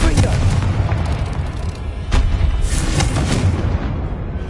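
The Confringo spell bursts in the Hogwarts Legacy video game on PS5 as a loud, sustained blast with rumbling booms and crackling debris that fill the whole stretch, with no talk.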